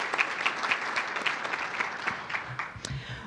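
An audience claps at a city State of the City address in Independence, Ohio, a moderate burst of applause that holds steadily and begins to thin toward the end.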